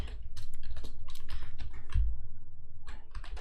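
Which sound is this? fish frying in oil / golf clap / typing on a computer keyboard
typing on a computer keyboard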